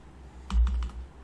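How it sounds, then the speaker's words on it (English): Keys tapped on a computer keyboard while entering an SQL query, a short burst of several soft clicks close by over a quiet background hum. "this is the thing we are typing in"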